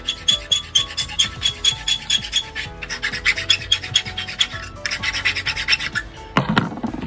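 A file rasps back and forth on a Mercedes-Benz emergency key held in vise grips, in quick close strokes with a rhythmic scraping pattern, ending in a brief clunk.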